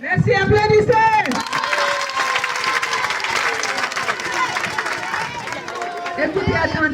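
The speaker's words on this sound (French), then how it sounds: "Merci, applaudissez." Loud audience applause with cheering and crowd noise, sustained for several seconds after a voice speaks at the start. Talk resumes faintly as the clapping dies away at the end.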